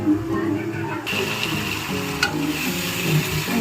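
Masala frying in oil for a home-style biryani, a close, steady sizzle with a spoon scraping and stirring through the pan, continuous throughout with a brief clink partway.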